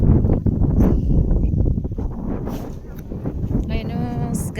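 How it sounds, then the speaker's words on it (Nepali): Strong wind buffets the microphone at a crowded hilltop viewpoint, a loud rough rumble running throughout while people talk nearby. "हावा चल्यो भाइ यहाँ त बेसरी"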